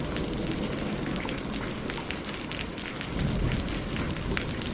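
Steady, heavy rain pours down throughout a stormy night, with a low rumble of thunder swelling near the end; no voices.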